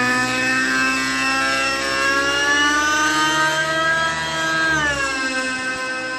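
Nitro RC helicopter engine held at full throttle, a loud, close, continuous high-pitched whine that stays steady and then dips briefly in pitch near the end, heard alone without talk.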